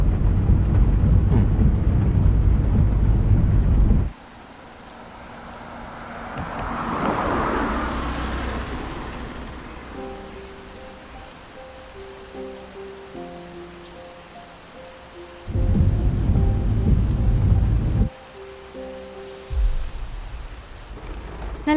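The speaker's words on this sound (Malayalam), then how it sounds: "നല്ല ബെസ്റ്റ് ടൈം, കൊല മഴ." Heavy rain pours down loudly in bursts, dropping away between heavy spells, with a low rumble like distant thunder near the start and a faint musical tone running through the quieter middle stretch.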